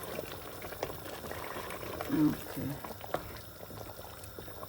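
Hot water poured from a kettle into a cooking pot, a soft liquid splash and bubbling at moderate distance, with someone speaking briefly over it.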